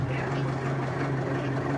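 A steady, low tractor engine hum drones evenly throughout, muffled as if heard from inside the closed cab of a Solis 50 tractor.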